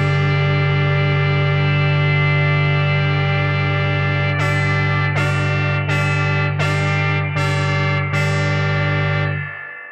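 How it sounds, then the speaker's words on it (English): A MOTOR Synth MKII playing a sustained rich, buzzy tone with its motors and digital oscillator randomly detuned, followed by six evenly spaced retriggered notes, each with a bright attack, before fading out. "Each time a new note is triggered, the two motors and one digital oscillator that produce that note are randomly detuned within the range of depth that you have dialed in."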